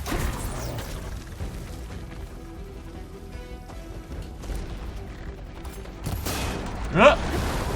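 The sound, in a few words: gunshots from shooting in Horizon Forbidden West video game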